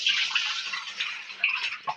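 Drinking water splashes and pours as a container is filled outdoors in rural Konkan, a close, continuous gurgling rush over about two seconds.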